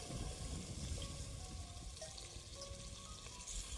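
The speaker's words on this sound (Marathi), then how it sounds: "एक वाटी पाणी घेतलेलं आहे ते टाकून देते मी आता" Water from a bowl is tipped into mutton cooking in a pot for biryani, giving a steady close-up rush and sizzle that runs unbroken and fairly loud throughout, with no talking.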